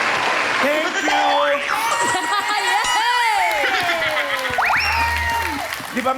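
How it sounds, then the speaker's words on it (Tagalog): Studio audience applause on a Filipino noontime variety show: steady, loud clapping and crowd noise lasting several seconds, mixed with music. "Di ba mas maraming palakpak yung thank you ko?"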